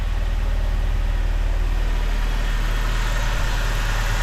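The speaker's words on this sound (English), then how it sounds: "Let's start her up and see how she sounds." BMW 320i E90 with an N46 four-cylinder engine running at idle after an oil leak repair, a steady close low rumble with an even throbbing pulse and no voices.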